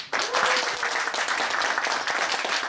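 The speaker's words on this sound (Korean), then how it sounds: "우리 남궁영 주임 교수님께 박수 한번 해주십시오" Audience applause at a university course completion ceremony, many people clapping together in a lively, steady burst that starts abruptly and continues at fairly close range.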